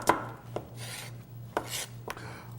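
A knife julienning bell peppers on a cutting board: several crisp, separate chops spaced unevenly, close and moderately loud, with a low steady hum beneath and no talking.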